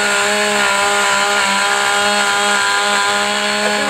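Chainsaw cutting into white pine for carving, a loud, steady close-up engine whine with a sustained buzzing tone that holds throughout without pause.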